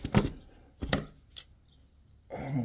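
A plastic support piece for a weld repair on a broken 2021 Ram is cut in a few distinct sharp strokes, spaced irregularly, close and fairly quiet, with short silences between them.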